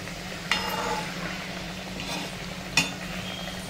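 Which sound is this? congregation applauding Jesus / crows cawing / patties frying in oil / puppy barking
patties frying in oil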